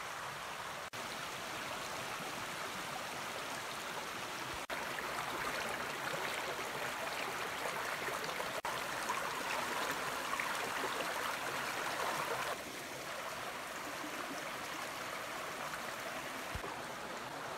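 River water flows steadily beneath a bridge along the Manistee River trail, a constant broad rushing wash with a few faint knocks and no voices.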